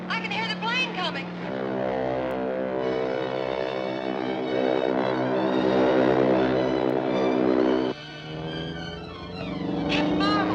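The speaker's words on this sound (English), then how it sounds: "I can hear the plane coming." A propeller airplane drones steadily as it approaches, a sustained engine tone that holds and shifts pitch midway. People call out over it at the start and end.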